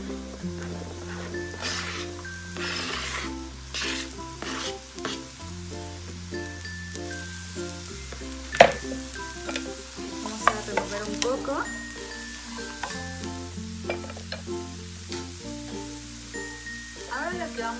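Chopped mushrooms frying with onion in olive oil, a close crackling sizzle with stirring clinks and occasional sharp taps, heard under steady background music.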